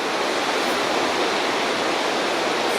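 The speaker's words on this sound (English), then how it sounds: "Beautiful waterfall there." Waterfall in Iceland in winter, a steady, loud broadband roar of falling water that fills the whole span without pause, close by and with no voices.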